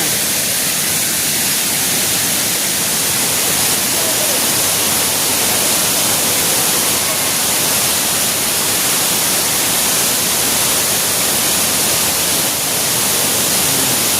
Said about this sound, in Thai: น้ำตกตาดแบบธรรมชาติเลยพี่น้องเนาะ